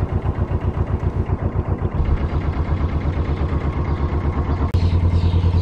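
A vehicle engine runs steadily close by on an outing among swans and trees in Northampton, a continuous low droning hum with a faint rhythmic clatter that fills the whole clip.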